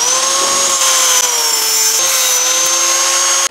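A power tool cuts through a bicycle handlebar pipe, close up with a continuous high whine and a rough grinding edge that shifts pitch slightly as the blade works through the metal.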